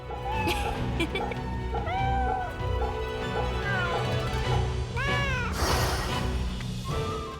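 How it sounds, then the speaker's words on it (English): A cat in the video game Fate/Samurai Remnant meows several times in drawn-out, wavering cries, with a breathy hiss near the end, all set against steady game music. "Give us the big hiss."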